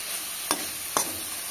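Fried fish pieces with potato and pointed gourd being stirred in a pan, two distinct scraping strokes against a steady soft sizzle, close and fairly quiet.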